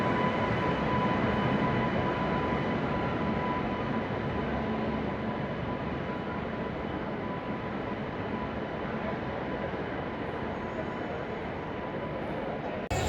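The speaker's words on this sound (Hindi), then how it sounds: "वहाँ से अमरकंटक एक्सप्रेस का डिपार्चर हो गया है प्लेटफॉर्म नंबर 3 से" Amarkantak Express pulls away from platform 3 of a station, a broad steady rumble of rolling stock with a faint high tone running through it, fairly loud and continuous with no talk.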